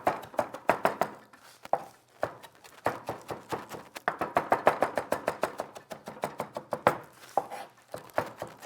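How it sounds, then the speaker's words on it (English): A knife finely chopping parsley on a cutting board, rapid crisp taps in quick bursts with short pauses between runs, close and clear. "We're going to grab our knife, and we are going to chop it nice and fine."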